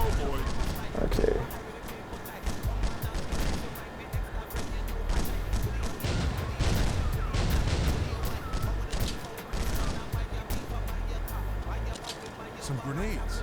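Grenade blasts and gunfire erupt in the Fugitive Hunter video game, dense repeated bangs and booms running throughout at steady loudness beneath continuous talking.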